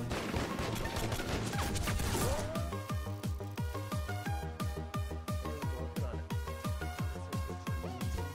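Rapid bursts of gunfire at shooting practice, many shots in a steady rhythmic string over dense music, loud and close throughout.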